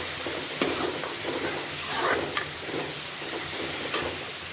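Garam masala and turmeric are stirred into a frying egg bhurji base, producing a soft, continuous sizzle with a few sharp scraping clicks from the stirring.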